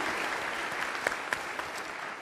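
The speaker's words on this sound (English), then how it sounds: "We want to give you a round of applause, too, because you're doing 2 jobs at one while you're going to school." Audience applause for ROTC reserve students at a forum, a brief steady wash of clapping from a crowd with a few sharper claps standing out.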